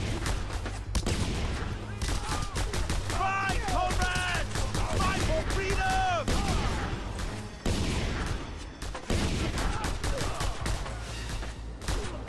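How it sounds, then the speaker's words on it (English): Dense bursts of gunfire fill a Just Cause 2 firefight, loud and nearly continuous with short pauses, while someone speaks over the shooting. "my own guys are shooting me in the back"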